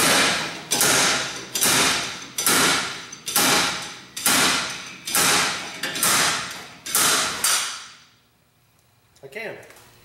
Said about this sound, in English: Time to see if I can get the hub out with the slide hammer.